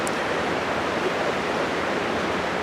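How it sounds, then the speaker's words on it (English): A creek running strongly after heavy rain at an Adirondack base camp, a steady close rush of water that never lets up, with no voices. "This creek's been running so strong because we get so much freaking rain"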